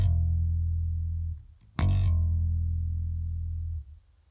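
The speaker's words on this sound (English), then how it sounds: "we're going to learn how to do pull-offs" Low bass guitar notes sustain steadily, broken once by a short percussive attack before the deep tone resumes and holds, then cuts off, with no voices.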